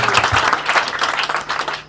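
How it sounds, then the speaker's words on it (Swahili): Church congregation clapping, a close, loud burst of many hands with a slightly uneven, pulsing rhythm that holds for the whole moment. "Mpige tu makofi bado."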